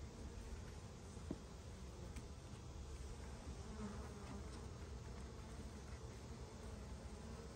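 Bees hum steadily around nest cells in a tree colony, a continuous close, faint buzz of many insects with no voices.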